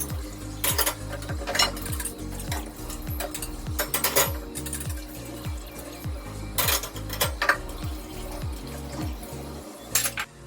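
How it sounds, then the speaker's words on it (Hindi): Dishes and utensils being washed by hand in an army quarter kitchen: steady running tap water with repeated clinks and clatters of pots, plates and cutlery, close and busy, with no talk. "बर्तन थे बहुत सारे, अब वो धो रही हूँ।"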